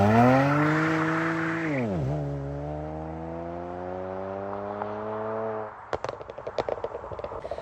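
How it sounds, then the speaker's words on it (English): A Stage 3 VW Polo GTI, front-wheel drive, launches hard: the engine note sweeps up, dips at a gear change, then holds a strong rising drone before a burst of choppy, crackling pulses near the end. "that was a pretty good launch. I mean, there's a bit of wheel spin"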